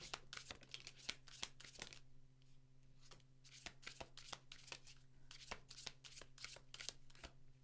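Tarot deck shuffled by hand in a quiet room, a close series of quick riffling bursts and soft card flutters, repeated in uneven clusters throughout.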